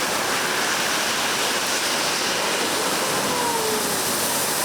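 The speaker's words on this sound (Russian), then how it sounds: "Центральная часть Кызыла превратилась в многочисленные речки и ручьи." Heavy floodwater rushing through the streets of Kyzyl after an all-night downpour, a dense, steady roar of flowing water with no pauses and no talking.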